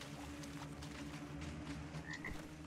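Repeated frog croaks from a creature in the survival game Wildmender, steady and fairly loud over a constant low ambient game hum, with a brief higher chirp near the end.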